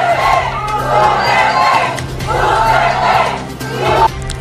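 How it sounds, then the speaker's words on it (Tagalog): A large crowd shouts and cheers at a political rally in the Philippines, loud and close, rising and falling in repeated surging waves of voices. "Ayan na, sigawan na."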